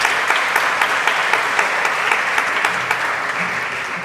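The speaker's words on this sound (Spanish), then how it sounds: "Un aplauso, por favor, para los 4 expositores." Audience applause at a Supreme Court seminar on plain language, honoring four speakers at the close of the first session: a steady, dense wash of many hands clapping, fairly loud and sustained throughout with no talking over it.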